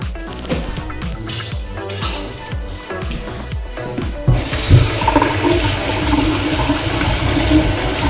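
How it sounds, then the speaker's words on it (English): A toilet in a basement flushes after a drain line blockage of toilet paper and hair is cleared, starting with clunks and handling noise, then a loud close rushing swirl of water that drains steadily to the end, with no talk. "Try flushing the toilet. That's flushing good now."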